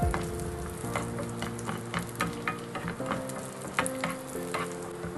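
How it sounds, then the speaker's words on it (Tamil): Crushed cashews and almonds fry in hot ghee in a pan, making a steady, close sizzle with occasional stirring scrapes, while soft music plays faintly underneath. "நெய் ஊத்ததுக்கு அப்புறம் நான் இந்த பொடிச்சு வச்ச முந்திரி பாதாமை போட்டு நல்லா வறுத்துக்கிறேங்க"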